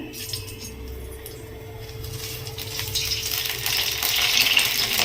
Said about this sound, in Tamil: கடாய் ஹீட் ஆயிடுச்சு. நான் இப்போ ஆயில் யூஸ் பண்ணிக்கிறேன்.